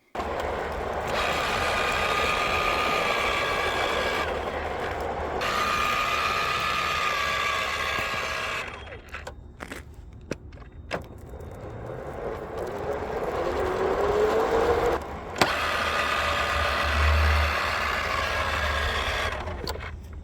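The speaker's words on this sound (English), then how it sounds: "It's making a spinning noise down here by the pedals, and there's no drive function to it." A cheap Reevo hubless e-bike motor spins down by the pedals without driving, a close mechanical whir that runs steadily, drops out briefly amid clicks and knocks, then winds back up; no one speaks.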